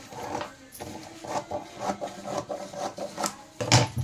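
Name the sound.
scissors cutting saree fabric for churidar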